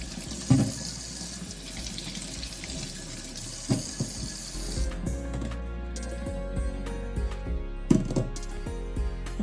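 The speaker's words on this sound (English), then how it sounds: "ginger, really rinse it very well" Fresh ginger root is rinsed under a running kitchen tap, a steady close stream of water with several sharp splashes and knocks as the pieces are handled, the flow easing and resuming partway through.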